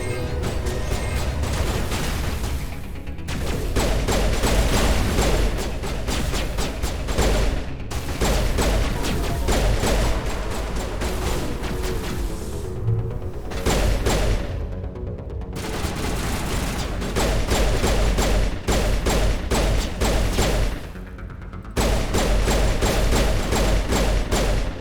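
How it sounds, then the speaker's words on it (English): Sustained loud gunfire in Mass Effect Legendary Edition, continuous fusillades of shots and thudding impacts running nearly throughout, broken by a few brief pauses. "What are you shooting at?"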